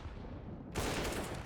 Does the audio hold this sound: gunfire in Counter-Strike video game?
yes